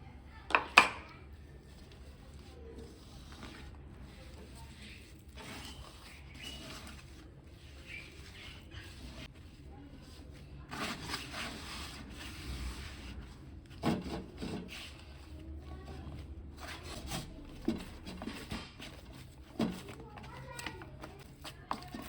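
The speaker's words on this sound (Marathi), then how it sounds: "ह्या बारीक केलेला पालक टाकून मी मळून घेते" Wheat flour dough with a little salt and finely chopped spinach is kneaded by hand, giving soft, irregular rubbing and squishing sounds with occasional knocks, while someone talks over it.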